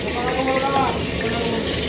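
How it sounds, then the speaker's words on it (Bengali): Two eggs frying in white oil in a pan while cooking mixed fried rice, a steady close sizzle that holds evenly throughout. "এই যে ডিমটা আমি ভাজছি, দেখুন।"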